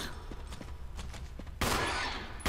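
A few sharp gunshots crack in quick succession in the video game Resident Evil, then a loud burst of blasting noise near the end, with no talking.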